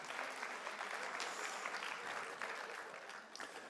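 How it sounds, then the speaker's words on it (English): An audience at a women's summit applauds, a short, steady burst of clapping that is faint and somewhat distant and tapers slightly toward the end. "Come on, give her a round of applause."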